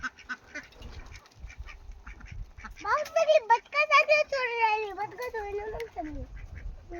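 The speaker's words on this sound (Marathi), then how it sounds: "दोन बदक आहे, दोन कोंबड्या आहे." Farm ducks quacking in a rapid, loud run of calls close by, with a voice and other talk around them and chickens also kept on the same farm.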